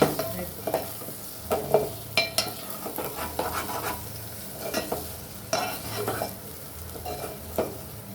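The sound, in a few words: egg frying with onions in pan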